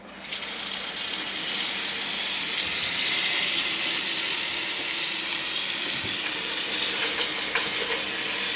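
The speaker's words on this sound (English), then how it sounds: "we're going to add hot water back in the pot, some fresh water, about 2 inches over the surface of the beans." Hot water poured from a tap into a cooking pot of beans for three bean chili, a steady, loud gushing splash running unbroken for the whole stretch with no voices.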